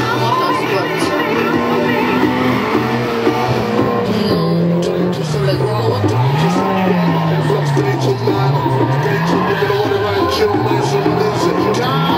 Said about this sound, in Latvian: Driftē pilnā gāzē.